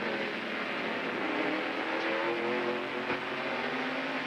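Jimmy Hensley's race car at Martinsville during the 1992 Hanes 500, heard from a roof-mounted camera: a loud, steady engine drone fills the whole stretch, close and constant with no talk.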